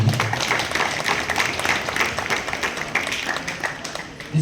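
Audience at a school science day celebration bursts into lively applause, many hands clapping in uneven bursts that swell and fade, close and fairly loud.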